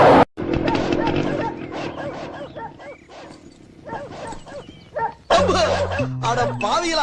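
Dogs bark and yip repeatedly in short bursts, mixed with loud talking voices throughout.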